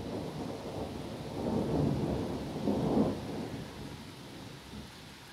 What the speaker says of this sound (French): Monsieur l'orage à droite.